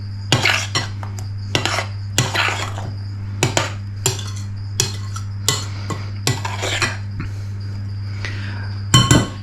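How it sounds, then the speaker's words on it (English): A spoon clinks and scrapes against a bowl at an irregular rhythm while frozen berries are gently folded into stollen dough, over a steady low hum. "I'm just going to gently mix them in."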